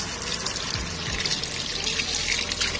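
Water pours steadily over an anthurium plant and its potting medium, a continuous close splashing trickle with no talk.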